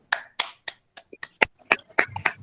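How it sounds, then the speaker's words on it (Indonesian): Scattered claps from a small group in a school classroom, about nine sharp separate hits at an uneven pace, fairly close and moderately loud, with no talk over them. "Luar biasa, tepuk tangan untuk semuanya."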